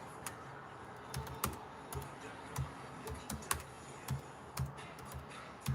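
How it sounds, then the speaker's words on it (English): Someone types on a computer keyboard nearby, uneven clusters of soft clicking keystrokes at a quiet, hesitant pace. "My typing sucks."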